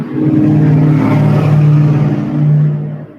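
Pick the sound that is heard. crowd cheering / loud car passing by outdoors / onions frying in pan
loud car passing by outdoors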